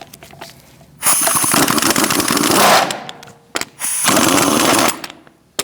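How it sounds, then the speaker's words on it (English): A pneumatic impact gun with a 19mm socket rattles off the hubcap and lug nuts of a 2016-2019 Chevrolet Cruze, in two loud, sustained close bursts split by a short pause and faint clicks. "Using a 19mm socket, we're going to remove our hubcap and lug nuts."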